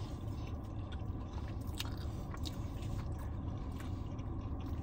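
Chewing Domino's loaded tater tots, with close, wet mouth sounds and soft crunching that repeat steadily through a quiet room, and no talking.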